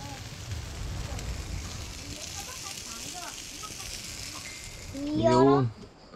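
Fish grilling over an open fire outdoors after a spearfishing catch, a soft steady crackle and sizzle in the background as a voice briefly speaks near the end.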